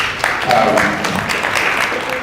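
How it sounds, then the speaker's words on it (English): A forum audience on regional re-entry services breaks into a round of applause, a dense spread of clapping that holds steady for a couple of seconds, with a voice speaking over it. "I think he deserves a round of applause"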